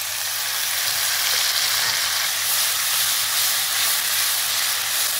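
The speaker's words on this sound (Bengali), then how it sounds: "এখন আমি ব্রয়লারের মাংস রান্না করার জন্য তেল দিয়ে দেবো" Oil heating in a pan on a clay stove before broiler chicken is cooked, sizzling as a loud, steady, broad hiss that carries on unbroken with no talk.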